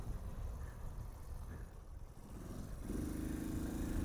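A 1981 Honda C90 semi-automatic motorcycle's small engine drones steadily while riding, with a low rumble and wind noise, rising to a firmer, higher tone near the end.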